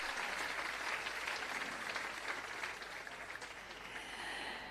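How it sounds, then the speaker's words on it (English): Broad, steady applause from an audience at a Jamaica Civil Service long service awards ceremony, a dense wash of clapping filling the room at even strength for several seconds before easing slightly toward the end. "Thunderous applause."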